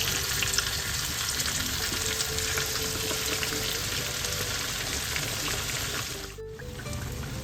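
Floured giant tilapia frying in hot oil, a dense, loud continuous sizzle and crackle that fills the whole stretch, with a brief dip near the end.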